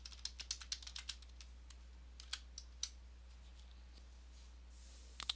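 Rapid, light keystrokes on a computer keyboard in a quiet room as account information is entered, a quick burst of clicks followed by a few scattered taps.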